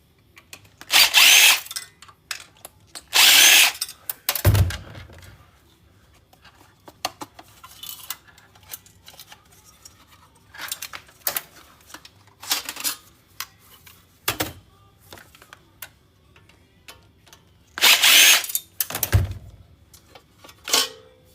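Power drill backing screws out of desktop computers being scrapped for value, heard as several loud whirring bursts separated by quieter clinks and handling clatter of metal parts, with no one talking.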